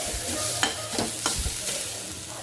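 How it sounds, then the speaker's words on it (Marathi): Ingredients being stirred and sautéed in a pan while making ukadiche modak, with a soft sizzle under repeated scraping strokes of a spoon. "आता हे चांगलं परतून घ्यायचं आता हे लाल होईपर्यंत थोडं परतून घ्यायचं"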